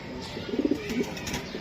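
Racing pigeons from a BRPL club coo in a short burst of a few soft, throaty calls, fairly close and moderately loud over a light background hiss, with no talking.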